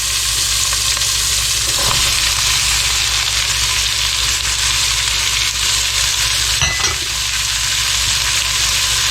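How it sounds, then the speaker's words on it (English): Vegetables frying in melted fat for German potato salad make a loud, dense, continuous sizzle close by, with a brief stirring clatter partway through and no voices. "then add the vegetables. You want these to fry up and be translucent."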